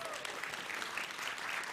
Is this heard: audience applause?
yes